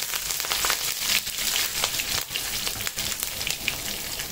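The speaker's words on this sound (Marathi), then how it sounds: "1 चमचा मोहरी टाकते, हिंग टाकते 1/2 चमचा, कढीपत्त्याचे पानं टाकते 10," Mustard seeds, asafoetida and curry leaves crackle and sizzle loudly in hot oil, a dense, continuous spatter with rapid popping bursts throughout and no talking.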